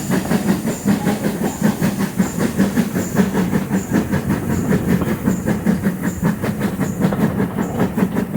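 A steam train running on the Bodmin steam railway, with a loud, steady rhythmic chuffing and clickety-clack of wheels on rails under a constant hiss, heard close and continuous with no talk.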